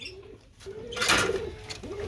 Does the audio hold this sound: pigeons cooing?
yes